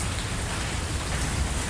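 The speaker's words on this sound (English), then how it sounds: "the rain slowed down. Now it's just to a sprinkle." Steady rain in Southeast Asia falling and pattering on a surface, a dense continuous hiss with low rumble, fairly close and even throughout.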